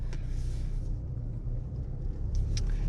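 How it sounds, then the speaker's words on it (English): A 2024 GMC Canyon Elevation pickup truck pulls away onto the road, its engine giving a steady low rumble with road noise heard from inside the cab. No one speaks. "taking off in the 2024 GMC Canyon Elevation, let's go ahead and put it in drive"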